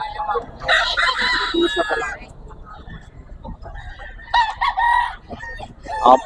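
Roosters at a gamefowl market crow loudly, with one long crow early and another shorter burst later, while people talk nearby.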